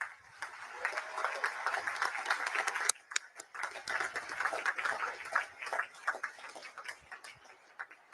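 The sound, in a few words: applause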